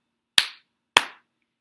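Two crisp, sharp hand claps about half a second apart mark out the two syllables of a word, each ringing briefly in an otherwise quiet room.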